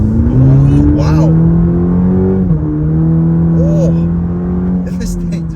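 A 2023 Cadillac CT4-V in sport mode accelerates hard, its engine note climbing and shifting as gears change, loud and close from inside the cabin while a driver talks over it.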